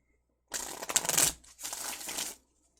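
Tarot cards shuffled by hand in two quick bursts of close, crisp riffling and flicking, separated by a brief pause, with no talk.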